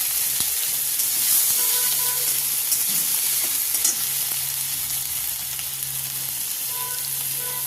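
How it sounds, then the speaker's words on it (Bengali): Onion paste fries in hot oil with a bay leaf, a steady close sizzle and hiss broken by occasional scraping as it is stirred in the pan. "প্রথমে একটা তেজপাতা দিয়ে দেবো, তারপর তেলেতে পেঁয়াজ বাটা দিয়ে দেবো। পেঁয়াজ বাটাটা একটু নাড়াচাড়া করবো।"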